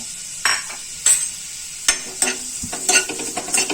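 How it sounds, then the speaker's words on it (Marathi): Finely chopped onion dropped into a spoonful of hot oil for a drumstick-leaf sabji, giving loud crackling sizzle bursts with scrapes of stirring, up close, with no talk. "तेल गरम झालं की आपण हा जो बारीक चिरून ठेवलेला कांदा आहे तो घालायचा"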